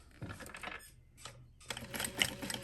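A sewing machine stitches parallel lines on a shoulder bag in short bursts of rapid mechanical chatter, close and moderately loud, with a brief pause between runs.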